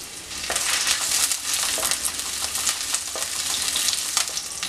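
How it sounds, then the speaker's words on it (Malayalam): Ginger, garlic and green chilli fry in hot oil, making a steady, close sizzle with crackling pops and faint stirring sounds. "അതിനകത്തേക്ക് നമ്മളിവിടെ എടുത്തു വെച്ചിരിക്കുന്ന ഇഞ്ചിയും വെളുത്തുള്ളി ഇട്ടൊന്ന് മൂപ്പിച്ചെടുക്കാം"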